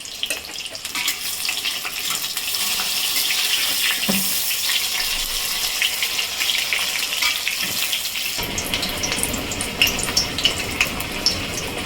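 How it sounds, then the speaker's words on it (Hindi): Brinjal pieces deep frying in hot mustard oil give off a steady, loud, hissing sizzle that holds through the whole stretch, with some crackle and bubbling near the end and no one talking. "तेल गर्म हो गया, ऐसे हम बैगन को डाल दें। और बैगन हम फ्राई कर देंगे डीप फ्राई।"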